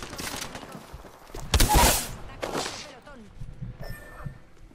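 Gunfire bursts in the video game Apex Legends, a short volley of shots in the middle of the clip, fairly loud amid game noise.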